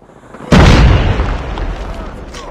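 A Semtex grenade explodes in a Call of Duty Mobile ranked match on Nuketown, played on an iPhone. One sudden, loud blast hits shortly after the start, then a long rumbling decay fades gradually.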